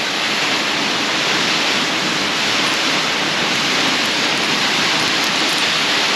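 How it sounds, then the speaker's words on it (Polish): A constant roar of rushing water from a waterfall in the Alps near Kandersteg fills the background evenly and without pause. "Wodospadzik w tle."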